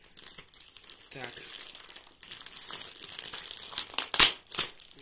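A taped parcel sent by a subscriber is unwrapped, giving crinkling and crumpling packaging sounds that grow louder with a few sharp tearing rips near the end. Someone speaks briefly.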